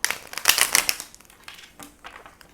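A quick riffle of tarot cards being shuffled, a dense papery flutter that fades into a few softer taps, close and alone.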